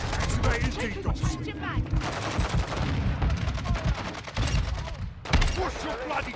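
Rapid automatic gunfire from Call of Duty Modern Warfare 2 multiplayer, dense overlapping bursts and shots running continuously and loudly throughout, with game voice callouts mixed in.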